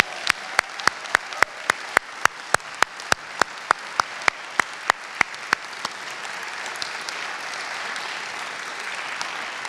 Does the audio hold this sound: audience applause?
yes